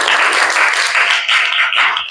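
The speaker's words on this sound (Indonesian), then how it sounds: "tepuk tangan yang mulia untuk itu" Brief, bright applause from an audience at a teaching performance session, dense clapping close and fairly loud for about two seconds, with no voices over it.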